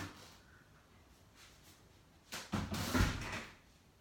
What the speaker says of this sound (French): Je vais aller lui ouvrir la porte